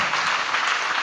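An audience at a gospel meeting claps together in a dense, continuous burst of applause, loud and close, lasting only about a second with no clear voices over it.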